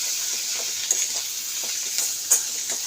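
Spices sizzling in a pan with salt, sautéed for a Bengali fish curry with black cumin: a steady hiss with a few soft stirring scrapes and clicks, close and alone.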